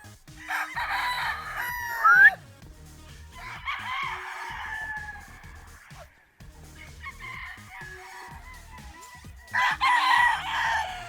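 Gamefowl breeding-stock roosters crow several times, long strained calls rising and falling with short clucks in between, close and loud, with a final crow near the end.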